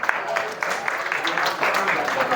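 Students at a school motivation session in Bogor applaud for a guest, producing a steady wash of crowd clapping that carries on throughout under a noisy hall background.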